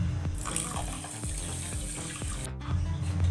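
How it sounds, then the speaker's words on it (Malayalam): Two cups of water run steadily into a metal pan over sugar, a continuous pouring splash with a brief break near the end before it resumes. "അതിലേക്ക് രണ്ട് കപ്പ് വെള്ളം ചേർത്ത് കൊടുക്കാം"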